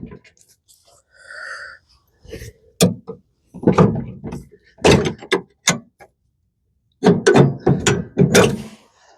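Pins pulled from the mower deck of a John Deere 165 lawn tractor, heard as a few close metallic clicks and scrapes between brief mechanical rattles and handling noises, with quiet gaps in between.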